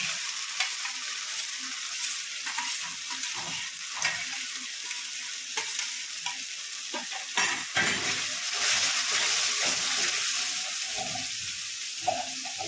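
Ground cumin, coriander, Kashmiri chili, turmeric and black pepper fry in hot oil for a vegetarian chhanar dalna, giving a steady sizzle broken by intermittent scraping and stirring strokes, with no one speaking.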